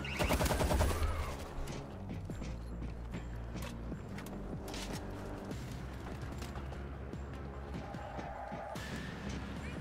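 Rapid gunfire in the video game World War Z, dense overlapping bursts and machine-gun rattle, loud at first then a steady barrage.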